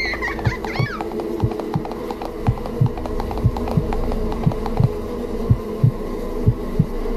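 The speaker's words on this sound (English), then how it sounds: "Run! It's bees!" Bees buzzing close by, a dense droning hum with regular soft thumping pulses underneath, no voices.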